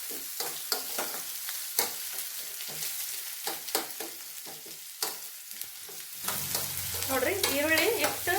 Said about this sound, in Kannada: ಈ ಈರುಳ್ಳಿ ಕೂಡ ಸ್ವಲ್ಪ ಮಾಡಬೇಕು ಎಣ್ಣೆ ಒಳಗೆ ಸ್ವಲ್ಪ ಟ್ರಾನ್ಸ್ಪರೆಂಟ್ ಆಗ್ಬೇಕು